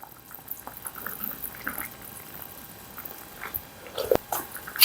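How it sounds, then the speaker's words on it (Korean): Dried pollack yukgaejang soup bubbles in a pot, a soft continuous simmering patter with small pops near the end, heard up close with no talk. "2, 3분 정도 더 끓여주세요"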